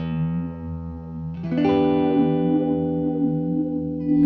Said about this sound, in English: add negative feedback instead, which will basically radically change the way the vibe sound is